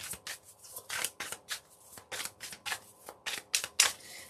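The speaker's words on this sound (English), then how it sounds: "Sorry, I know this deck shuffles loud." Close, crisp papery riffling of a tarot deck being shuffled in repeated quick bursts, each lasting a fraction of a second, with no talking.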